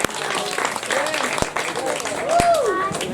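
Applause from the audience at a 2019 street crime solutions community show, broad clapping that rises toward the end while a voice talks over it.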